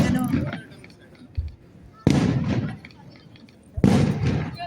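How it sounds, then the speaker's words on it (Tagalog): Fireworks burst at an Israel Independence Day celebration in Ashdod, three sharp, loud booms spaced a couple of seconds apart, each trailing off into crackle, with people talking in between. "Nakuha mo yung fireworks."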